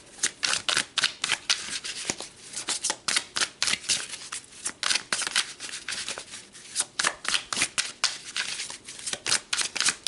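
Tarot cards being shuffled by hand, a steady run of crisp, rapid riffling flutters and snaps that repeat for about ten seconds, close and fairly quiet, with no talking.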